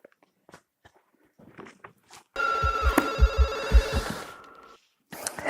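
A telephone rings after a number is redialed, a loud sustained electronic ring burst lasting about two seconds, following faint clicks of dialing or handling and ending before a brief further sound.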